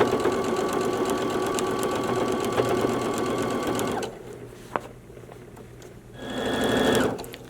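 A sewing machine stitches a straight seam along placemat fabric, a steady loud whirring buzz that stops abruptly around the middle, then a brief quieter stretch before a shorter burst of stitching resumes near the end.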